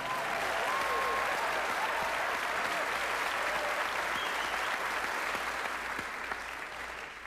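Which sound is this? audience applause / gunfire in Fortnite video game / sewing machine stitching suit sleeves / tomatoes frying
audience applause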